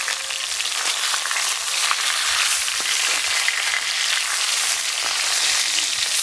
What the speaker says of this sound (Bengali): উল্টে পাল্টে একটু লালচে করে ভেজে নেব